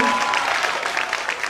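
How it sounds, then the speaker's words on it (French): An audience applauds a prize winner at a quiz contest award ceremony, a brief, steady wash of clapping throughout. "On applaudit Fidèle"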